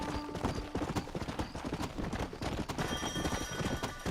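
Horse hooves clip-clop in Red Dead Redemption, a quick steady rhythm of hoofbeats at close range with faint game background sounds underneath.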